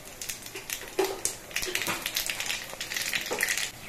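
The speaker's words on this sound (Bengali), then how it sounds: "সর্ষের তেলটা গরম হয়ে যাওয়ার পর এর মধ্যে দিচ্ছি অল্প করে একটু কালো জিরে" Black cumin seeds drop into hot mustard oil in a wok and sizzle with crackling pops and spatters, fairly close but soft, with irregular bursts over a steady hiss.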